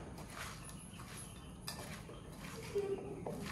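Chicken and pepper powder tossed together in a bowl for homemade shawarma, with steady clinks and scrapes of a utensil against the dish over a low background hum.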